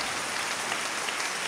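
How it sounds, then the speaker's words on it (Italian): Spontaneous applause from a concert audience at a Christmas concert in Carpignano, a steady dense patter of clapping throughout, fairly distant and even, with no voices. "Un applauso, vabbè, spontaneo."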